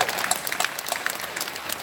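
An audience claps for a speaker at a college campus event, a brief burst of scattered, fairly close applause that stays steady throughout.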